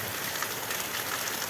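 Steady rain falls on a road during the first rain of the season, a dense, even hiss of drops close by with no voices and no change in level.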